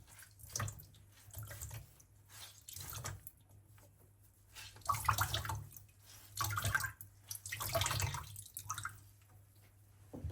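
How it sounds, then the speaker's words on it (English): Water squeezed from a soaked knitted sweater in a towel, soft wet pressing and dripping in repeated bursts, quiet and close with pauses between presses. "I'm just going to get the excess water out of it"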